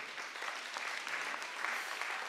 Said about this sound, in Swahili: Pigieni Yesu makofi.